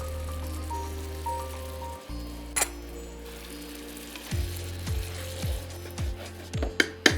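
Yogurt and chopped green chillies sizzle and crackle in hot oil in a pan, a steady close frying hiss with occasional louder pops.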